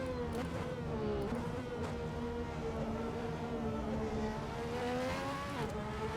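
A race car with a rear-mounted V12 engine screams past on a test run, a loud, high-pitched continuous whine that rises and dips with gear changes and throttle over several seconds.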